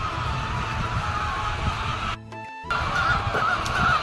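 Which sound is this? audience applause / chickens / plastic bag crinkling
chickens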